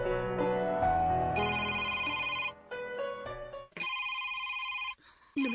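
A phone rings with an electronic tone that repeats in several bursts with short gaps between them. The ring is clear and fairly loud, with no talk over it.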